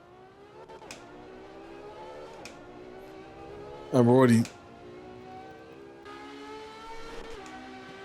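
A video game Evo racing car engine heard from outside, a droning rev with shifting pitch and one loud surge midway, with a person talking over it.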